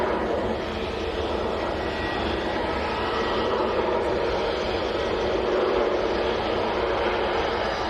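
Jet airliner departing Manchester airport, a continuous broad engine roar with rushing hiss, steady and fairly loud throughout with no voices.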